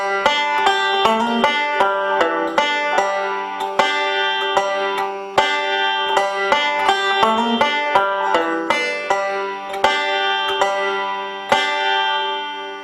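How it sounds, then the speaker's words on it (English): A banjo plays a fill-in lick, alternating thumb strokes and pinches in a steady, bright rolling rhythm of plucked notes, played close and alone. "That is a very, very popular lick on the banjo."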